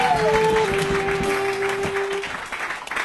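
Comedy club audience at a live roast-style show clapping, a dense broadband patter filling the room before gradually thinning out, with a sustained whistle-like tone sliding down underneath.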